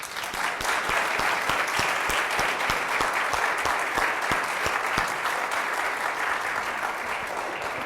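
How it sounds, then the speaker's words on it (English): An audience gives Sondra a round of applause, steady and full, many hands clapping continuously with sharp individual claps standing out throughout. "I want you to give Sondra a round of applause."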